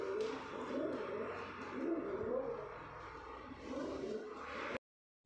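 Pigeons coo in a friend's hot pigeon loft, a dense, murmuring chorus of low throaty calls, steady and fairly close, with faint background noise and a brief silence at the end.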